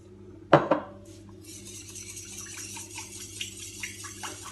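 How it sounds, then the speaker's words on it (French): A cup clinks against a bowl, then 60 grams of oil is poured from it into broccoli muffin batter as a soft, steady trickle lasting a few seconds, close by with no talking. "Ensuite, je vais verser donc 60 grammes d'huile."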